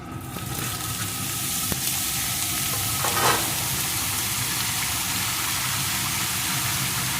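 Eggplant pieces go into a pan of potato and onion already frying in oil, giving a steady close sizzle throughout with a brief rise in hiss near the middle, and no voices.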